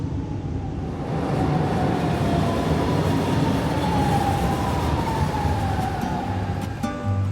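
Lisbon metro train riding along, with a steady loud rumble of wheels and car noise, a rising and falling whine throughout, and a brief clatter near the end; no talk.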